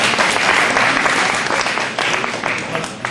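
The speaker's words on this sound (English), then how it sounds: "A round of applause" An audience at a Common Core presentation at Dryden Central School breaks into loud, dense applause that stays strong throughout, easing slightly toward the end.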